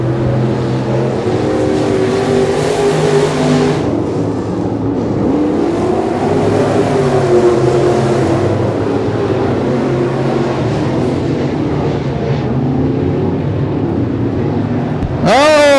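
Race cars run wheel to wheel into a turn with a loud, continuous engine roar that swells and shifts pitch as they pass close by.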